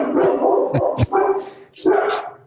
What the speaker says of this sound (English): Sorry, my dogs are going nuts.